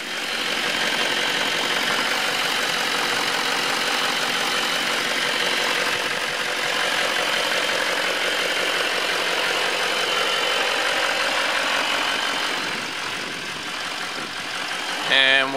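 A 2015 GMC Sierra 3500 HD Duramax diesel engine idles steadily nearby with a constant rattling clatter, then eases off briefly near the end.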